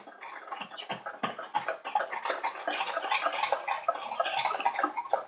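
Eggs and sugar mixed in a mixing bowl, rapid rhythmic clinking and scraping of a utensil against the bowl, close and steady throughout with no talking.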